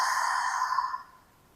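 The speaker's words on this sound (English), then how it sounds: "Big exhale through your mouth." A single big exhale out through the mouth during a yin yoga session, a close, breathy whoosh that holds steady for about a second before fading into quiet.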